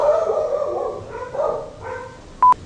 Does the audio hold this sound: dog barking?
yes